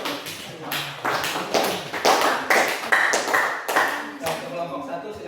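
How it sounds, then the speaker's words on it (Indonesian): Classroom applause for a student group, a short burst of clapping from a handful of people that rises and then tapers off, with some talking mixed in. "Kita kasih aplaus dulu untuk kelompok 1."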